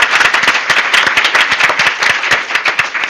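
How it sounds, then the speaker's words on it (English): Audience applause at a women's forum, a steady burst of dense hand clapping close by, with individual claps standing out as the sound stays loud throughout. "So I think we should give her a round of applause"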